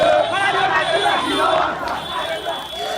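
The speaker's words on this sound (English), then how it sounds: "the crowds there in the northern town of Makeni were chanting, "We want peace, Mada must go,"" Protest crowd in the northern town of Makeni, Sierra Leone, chanting continuously as a dense, loud mass of voices, with a steady high alarm-like tone running through it.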